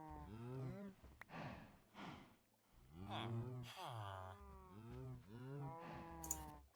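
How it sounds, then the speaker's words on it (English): Cows mooing in a villager breeding video game, several drawn-out low moos in close succession, fairly loud and overlapping with no clear gaps. "Oh, yeah, cows."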